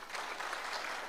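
An audience claps for a county commissioner at a public gathering, a dense, steady burst of many hands heard at a moderate distance.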